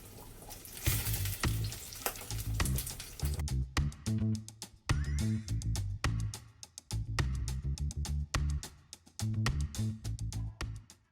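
Salmon fries in a pan with a loud, crackling sizzle, full of dense rapid pops and spatters that hold steady throughout.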